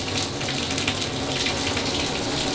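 Strong water pressure pours from a motel bathroom shower head, a dense, continuous hiss and splatter that fills the space at close range with no talking.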